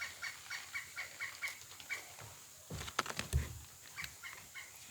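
An agitated turkey-like bird gobbles and clucks outdoors in repeated bursts, fairly close and loud, with a few sharp knocks partway through and no talking.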